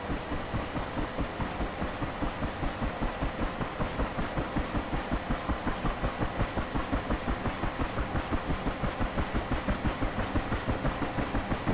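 UH-1 Huey helicopter engine starting up in DCS World, a steady rapid rhythmic thumping and whine that builds evenly as rotor speed comes up, continuous and close, with no talk.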